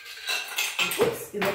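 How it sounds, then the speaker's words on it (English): Ice cubes clink and rattle into a clear glass for a Rum Runner cocktail, several close, bright knocks in quick succession. "I'm gonna put a little bit of ice"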